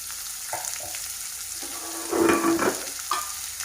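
Onions fry in a pan for garlic rice, cooking until brown, giving a steady sizzling hiss with a few stirring scrapes and a louder burst of spatter midway.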